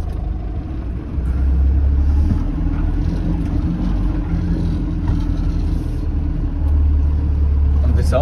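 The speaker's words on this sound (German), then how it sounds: "nicht so einfach im Dunkeln da durch diese Dünen zu fahren" Car driving through desert sand dunes in the dark, a steady low engine rumble throughout with a rise in effort around the middle, close and continuous.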